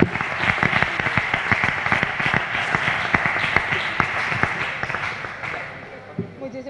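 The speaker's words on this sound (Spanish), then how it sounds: "me gustaría que el aplauso más grande fuera para ella" Applause from an audience at a Yegua Marismeña mare show, steady dense clapping for several seconds that thins out toward the end, with some voices mixed in.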